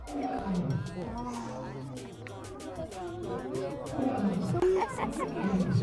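A deep, rumbling lion roar rolls out at a zoo amid a babble of excited voices, close and loud.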